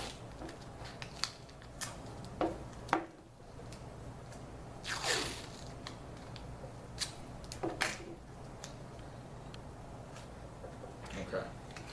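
Several short crisp snips and rustles of tape being cut into pieces, close and intermittent, with brief crinkles between cuts and a low steady background hum; no talking.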